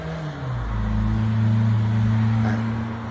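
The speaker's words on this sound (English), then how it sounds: "I like hearing cars go by." Cars pass by outside a balcony, a steady close road rumble with engine tones that rise and shift as vehicles go past, with no voices.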